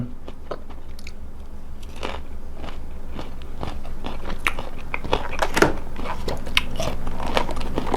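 Someone bites into and chews mangosteen fruit up close, with repeated crisp bites and wet, crunchy chewing sounds in a steady rhythm.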